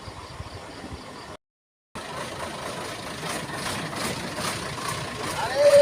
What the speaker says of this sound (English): let this lorry get past